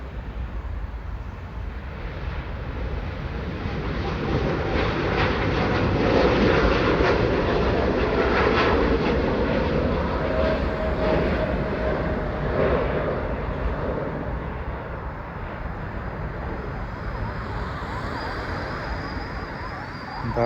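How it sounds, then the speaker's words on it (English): An Air India Boeing 787-9 in Vistara livery takes off from Delhi Airport, producing a sustained broadband engine roar that swells and holds steady for the full stretch before easing slightly toward the end. "What a beautiful takeoff,"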